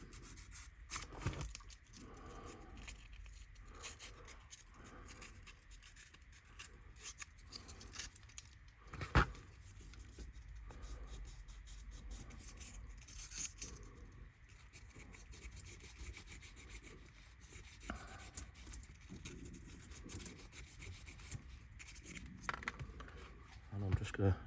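Surface rust being rubbed off a 3-rail Graham Farish Dublo model locomotive, quiet close scratching and rasping strokes with occasional small metallic clicks, faint throughout.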